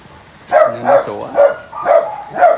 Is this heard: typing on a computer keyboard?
no